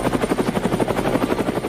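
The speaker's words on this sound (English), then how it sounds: "Helicopter." A toy helicopter whirs with a fast, even chopping pulse of rotor-like beats, steady and close for the whole short stretch, with no voices over it.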